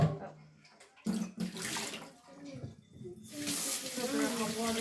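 Hot water gushes from a tap in bursts, starting and stopping before running steadily with a hissing rush; a voice speaks briefly in between.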